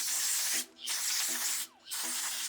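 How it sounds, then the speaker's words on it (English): Three bursts of close aerosol brake cleaner spraying, each a loud steady hiss lasting under a second, separated by short gaps, while servicing a 2005 Honda Pilot transmission. "So I just sprayed this with brake clean"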